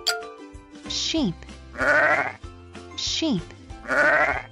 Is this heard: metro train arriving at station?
no